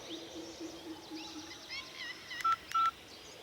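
A telephone keypad gives two short, clear beeps close by as it is dialled, over faint outdoor ambience with birdsong.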